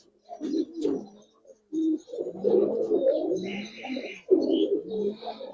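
A Giribaz pigeon coos close by in repeated low, throaty rolling phrases with short pauses between bursts, joined by a few faint higher chirps.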